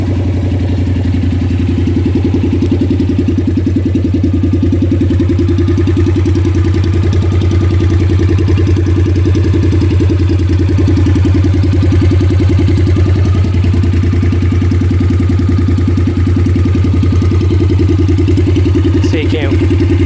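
Honda CTX700N fitted with an aftermarket exhaust idles steadily, a loud, deep, even engine rumble with a low throbbing pulse held close for the whole stretch.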